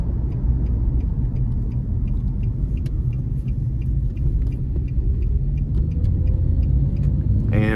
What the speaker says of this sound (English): I'm going to turn around here and put my foot down, and we'll see how it accelerates